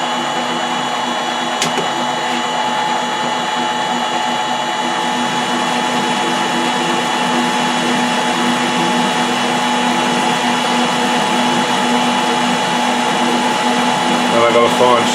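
A Colchester Bantam lathe cutting 16DP change gears hums steadily and loudly, with a constant tonal whine and mechanical rattle that barely change, plus one brief sharp click near the start. No voice is heard.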